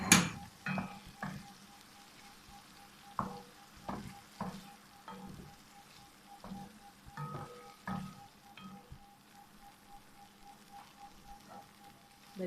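Chicken pieces cooking in a covered pan for chicken jalfrezi, a soft steady sizzle with scattered pops and crackles throughout, fairly quiet, with a few louder spits near the start.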